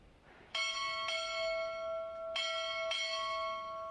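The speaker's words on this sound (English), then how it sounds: "Time orderly, strike 4 bells." Four bright ringing strikes of a ship's bell at a Navy recruit graduation ceremony, struck in two close pairs, each tone sustaining clearly between strokes in a quiet hall.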